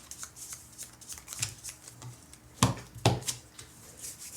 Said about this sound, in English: Shuffle that deck